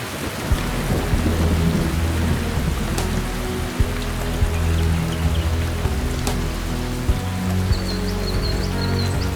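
Steady heavy rain pours over an Australian forest, with thunder rumbling low and continuous beneath it and a few sharp drip and crackle accents standing out.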